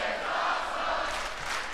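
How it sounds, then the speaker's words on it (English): Wrestling arena crowd at a WWE Raw match in Kansas City, a steady loud roar of cheering voices sustained throughout with no breaks. "Crowd is coming alive finally."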